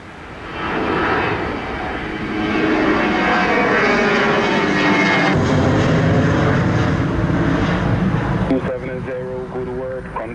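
An airliner lands at Montego Bay airport in Jamaica with a loud, close, roaring engine rumble that swells and shifts in pitch as it passes, while radio-style talk is heard over it.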